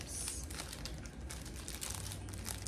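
A small plastic bag crinkling in close, continuous soft rustles and crackles, faint and steady throughout.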